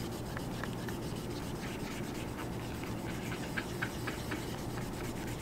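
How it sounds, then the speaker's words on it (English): A cotton-tipped applicator scrubs an abraded metal beam surface during strain gauge installation, making faint, close, continuous rubbing and scratching strokes, with no talk. "we're going to scrub the surface of the beam"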